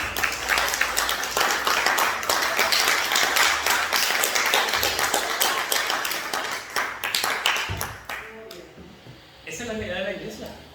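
A church congregation claps steadily for several seconds, loud and dense, then the applause fades away and a voice speaks briefly at the end.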